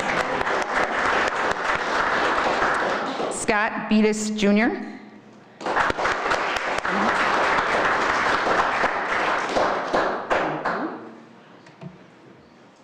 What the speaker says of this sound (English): we're still going to applaud him anyways